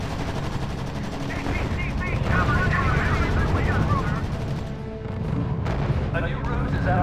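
In a R.U.S.E. video game battle set at the Battle of the Bulge, machine guns rattle constantly under heavy artillery booms. Loud, dense gunfire fills the scene, and radio-style voices speak over it.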